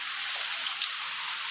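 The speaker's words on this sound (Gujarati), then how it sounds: "એક ધારો આવા નવો વરસાદ પડી રહ્યો છે." Steady rain pours down over a village, a constant hiss of falling water with a few brief droplet splashes standing out, no voices.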